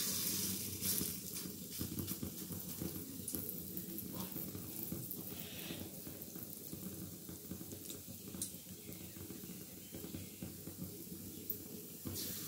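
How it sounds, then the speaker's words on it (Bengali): Thin flower fritters fry in hot oil with a steady, close hiss and crackle that runs unbroken throughout, no voices. "পাতলা পাতলা করে ভেজে নেব।"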